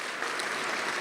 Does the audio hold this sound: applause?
yes